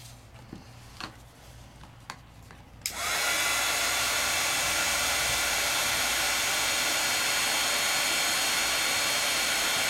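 A few taps and small knocks come first, then a heat tool switches on to melt embossing powder for double embossing. It gives a loud, steady whooshing blow that continues unbroken to the end, with no voices.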